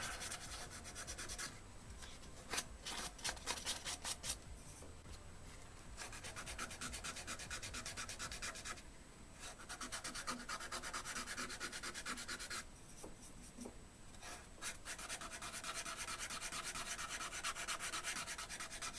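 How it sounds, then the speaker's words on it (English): Abrasive paper rubs against old, very dry dark cherry wood spinning on a lathe, a steady hissing scrape with the grain that pauses briefly a few times, no voices. "A little bit of sanding with the grain."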